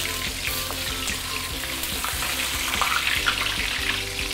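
Tofu and fish head frying in oil in a wok, a steady crackling sizzle with intermittent stirring and scraping sounds, fairly close and continuous.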